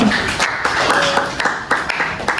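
A classroom of students claps for a classmate, a burst of overlapping hand claps with sharp irregular strikes continuing for a couple of seconds, fairly close and loud.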